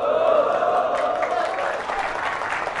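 Audience applause inside a mosque during a religious lecture on the Prophet's birthday, a steady wash of many hands clapping at moderate distance, with a voice carrying over it.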